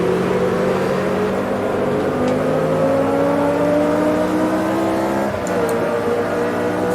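A Lotus 49C open-wheel race car screams at high revs around Jerez in a sim racing game, its engine note holding steady and loud, then briefly dipping at a gear change before climbing again.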